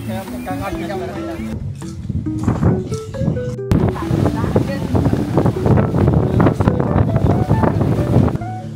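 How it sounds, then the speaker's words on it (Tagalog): Strong sea waves surge onto the beach at Boracay, a loud, continuous wash of surf with heavy wind buffeting the microphone, while people talk over it. "Pero ang lakas pa din ng alon."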